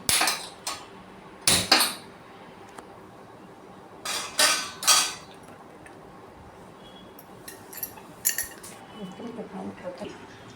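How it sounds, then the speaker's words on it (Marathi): Scattered metallic clanks and scrapes of an iron griddle being handled on a gas stove, a few sharp knocks in bursts with quiet gaps between. "आता मी गॅसवर तवा गरम करत ठेवली आहे"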